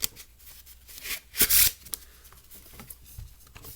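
A Polyantha deck of playing cards riffles and snaps together in quick bursts, with one louder shuffle in the middle, close up and otherwise quiet.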